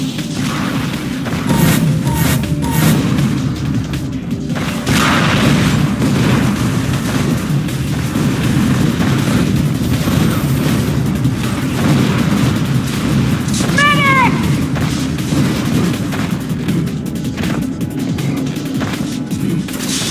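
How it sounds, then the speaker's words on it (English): Dense game-combat din of explosions and gunfire in Unreal Tournament III team deathmatch, a steady loud rumble with repeated sharp bursts throughout and no voice over it. "I'm taking heavy fire!"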